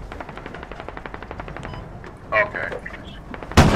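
Rapid automatic cannon fire from a BMP-2 infantry fighting vehicle in the military game Squad, a steady stream of close, evenly spaced shots, then a louder burst at the end, with a brief spoken word over it.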